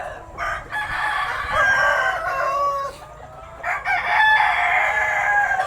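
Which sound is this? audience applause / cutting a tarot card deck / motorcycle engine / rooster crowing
rooster crowing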